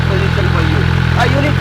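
A motorcycle engine idles close by with a steady low throb and no wind noise, while a voice talks over it.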